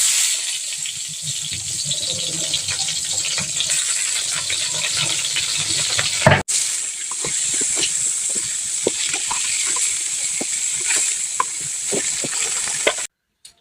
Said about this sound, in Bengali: এখন এই মাছগুলো আমি ভেজে নেব